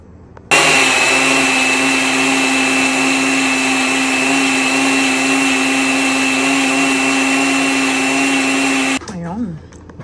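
Blender whirring loudly and continuously as it blends fruit with low-fat yogurt, starting abruptly and stopping near the end, followed by a brief voice.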